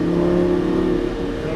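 A Lamborghini Gallardo LP550 engine pulls hard under throttle on a racing circuit, a loud, steady tonal drone that stays close and strong, with no talking over it.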